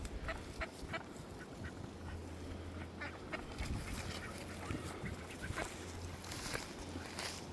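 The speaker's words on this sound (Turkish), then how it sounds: "Bunlar Birol Soprano'nun ördekleri olsun." Ducks quack steadily in a noisy flock, the calls overlapping and fairly close, with a low hum running underneath.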